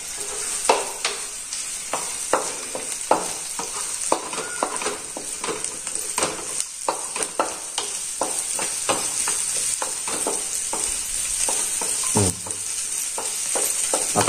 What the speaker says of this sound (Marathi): आता चांगला कांदा भाजून झालाय